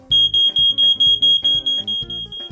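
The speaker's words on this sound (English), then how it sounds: "The alarm will go off when there is lots of smoke in the house" A smoke alarm shrieks with a piercing high tone, pulsing in rapid repeated beeps, loud and close, with no talking.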